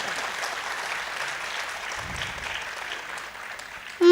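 A crowd applauds steadily at a mushaira and kavi sammelan, a dense even patter of many clapping hands heard from within the audience, ending abruptly.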